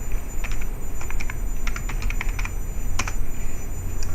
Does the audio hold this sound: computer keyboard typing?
yes